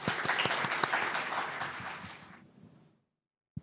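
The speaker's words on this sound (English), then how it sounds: "please welcome Consul General Sone to the podium with a round of applause" An audience at a Global Japan Forum panel applauds a consul general stepping to the podium, a full round of clapping that holds steady, then thins and fades into silence before a faint thump.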